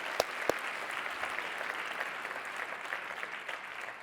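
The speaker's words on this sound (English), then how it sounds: "Let's give a big round of applause for all the founders." Audience applause for startup founders at a proptech accelerator demo day, a steady wash of many hands clapping that fills the room, with a couple of sharper claps up front.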